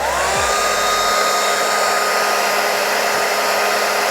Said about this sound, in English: I'm just going to put it on the low setting and keep my distance